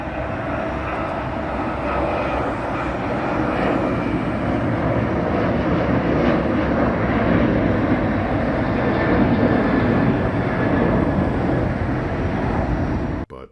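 A United airliner passes near LAX at a spotting hill, a loud, steady jet roar filling the whole stretch without fading much before it cuts off abruptly, with no voices.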